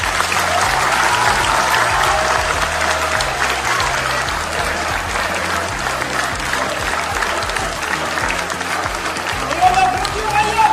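Sustained audience applause fills a hall at a youth speech and eloquence contest, steady dense clapping from a large crowd throughout, with a voice speaking faintly under it.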